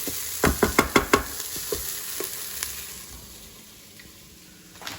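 Chuck steak sizzles in a hot pan for chilli con carne as it goes in, with a quick series of loud stirring knocks and scrapes up front, then a steady frying hiss that slowly fades.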